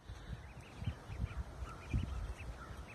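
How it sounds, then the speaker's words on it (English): Young ducks on their first day outside, calling in short bursts of quacking and honking near the chicken house, several birds at moderate distance with steady outdoor background. "So here's our ducks. This is their first day outside."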